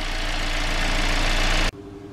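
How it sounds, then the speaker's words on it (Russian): A 2018 KIA Sorento Prime engine idles steadily and evenly, fairly loud and close, then cuts off abruptly near the end, leaving a quiet room tone. "Работает относительно хорошо для этого двигателя."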